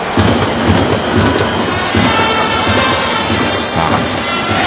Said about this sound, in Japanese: 雨が落ちてきました。